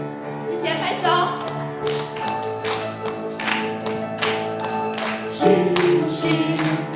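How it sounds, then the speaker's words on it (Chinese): Congregation clapping in a steady beat along with a Taiwanese-language worship song at a Presbyterian church Sunday service, hand claps under singing and accompaniment. "一起来拍手"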